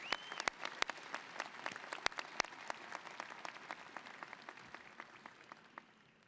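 An audience applauds at Ohio University's 2019 fall commencement ceremony, with dense clapping from a sizeable crowd that starts strong and slowly tapers off over several seconds.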